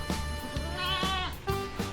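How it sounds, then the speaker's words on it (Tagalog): Goats in a backyard farm herd bleat repeatedly and close by, overlapping wavering calls one after another with a steady low rumble underneath. "Kambing invasion."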